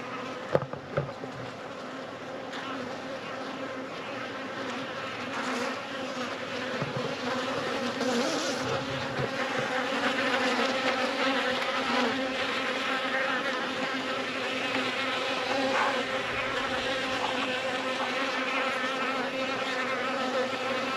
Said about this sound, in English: Bees are flying all around the swarm trap.